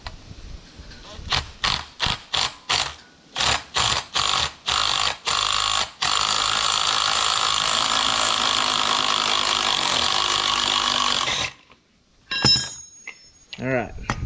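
Power steering pump pulley being worked off a 1975 C20 truck: a run of sharp mechanical bursts like an impact tool or ratchet, then a long steady whirring drive, a brief pause and a few clanks near the end.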